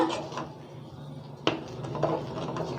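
A ladle scrapes and knocks against a pan while stirring mango kesari, giving a few scattered clinks and one sharper metallic tap midway, fairly faint and close.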